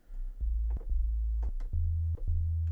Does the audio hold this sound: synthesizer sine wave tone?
yes